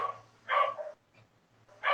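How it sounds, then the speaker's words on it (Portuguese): Dogs bark a few times, short sharp yaps with a pause between, fairly close, over a faint low hum. "cachorros aqui"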